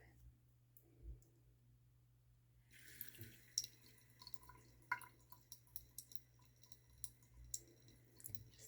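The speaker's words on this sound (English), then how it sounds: "I'm going to turn on the water a little bit." Water trickles slowly from a tap into a sink, heard close and quiet, with small clicks and drips in an uneven pattern after a brief silent start.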